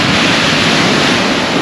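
Big sea waves, 10 to 12 feet, crash and surge below a cliff on the Holderness coast at Aldborough, making a loud, continuous roaring wash mixed with wind buffeting on the microphone.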